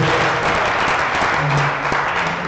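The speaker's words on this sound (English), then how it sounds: "Round of applause for Asif" Audience applause at a Pitch-In event at Seneca One: steady, dense clapping from a crowd, holding at an even loudness for the whole stretch with no voices over it.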